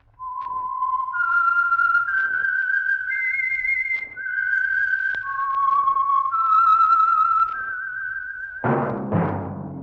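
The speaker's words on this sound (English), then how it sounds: "That whistle is your signal for the Signal Oil Program, The Whistler." Whistled signature theme for The Whistler radio program, sponsored by Signal Oil: a clear solo melody of sustained, sliding notes, followed by a brief burst of orchestral sound at the end.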